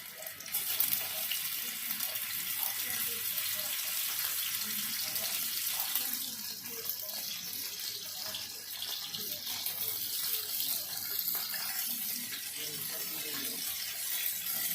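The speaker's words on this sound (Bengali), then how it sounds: "আমাদের তেল গরম হয়ে গেছে, এবার এর মধ্যে নুন হলুদ মাখিয়ে রাখা পুঁটি মাছগুলো ছেড়ে দিলাম।" Puti fish coated in salt and turmeric frying in hot oil, a broad hissing sizzle that runs steadily and close for the whole stretch, loudest at the start.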